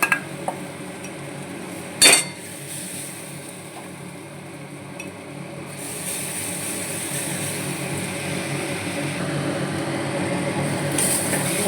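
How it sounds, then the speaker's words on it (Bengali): Mung dal and fried onions are stirred in a pot, with a sharp metallic clank near the start followed by a low, steady scraping and rustle that grows slightly louder toward the end. "মুগের ডালটা দিয়ে একটু নাড়াচাড়া করে নিচ্ছি।"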